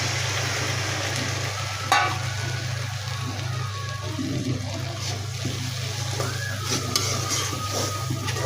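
Prawns coated in turmeric and chilli fry in a pan, giving a steady low sizzle with a sharp scrape of stirring near the start and a few faint clinks, close and with no talk.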